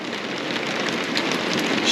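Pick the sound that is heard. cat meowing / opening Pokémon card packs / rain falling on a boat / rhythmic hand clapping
rain falling on a boat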